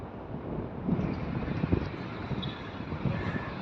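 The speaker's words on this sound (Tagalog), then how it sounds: "Malakas po ang hangin ngayon." Strong wind blowing outdoors in the early morning in Abu Dhabi, a steady loud rumbling buffet with gusts swelling and dropping across the span, no voices.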